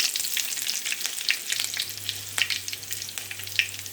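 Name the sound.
mustard seeds, cumin, green chilies and curry leaves frying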